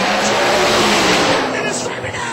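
Radial vs World drag race car launching off the line at a night event at Broken Arrow, a loud continuous engine roar with tire noise held for the full span, with a voice audible over it.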